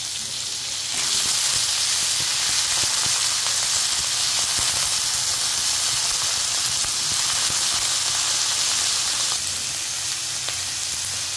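Tomatoes hit a pan of hot oil with fried onions and garlic, setting off a loud steady sizzle and hiss that runs without pause, with faint stirring clicks and no voices.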